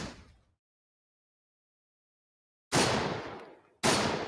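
Video game gunfire: a short burst fading out, then after a long silence two loud, dense bursts of automatic fire close together.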